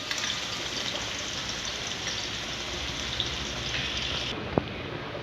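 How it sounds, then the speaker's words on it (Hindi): Crushed ginger and garlic, a heaped tablespoon, sautéing in hot oil, giving a steady, faint sizzle and crackle throughout with no talking. "ये मैंने लिया है कूटा हुआ अदरक लहसुन 1 टेबलस्पून भरा हुआ। इसको थोड़ा सौते कर लेंगे।"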